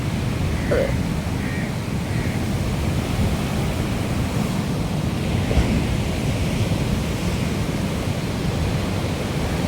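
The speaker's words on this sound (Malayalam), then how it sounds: "ആ തരം നല്ല വലിയ തരയാണ് വരുന്നത്" Big sea waves break on the beach at Edava near Varkala in the rainy season, a continuous roaring rush of surf with wind buffeting the microphone, heard alone without talk.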